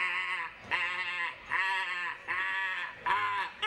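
A voice imitates a herd of billy goats, giving five loud, wavering bleats in a row separated by short pauses.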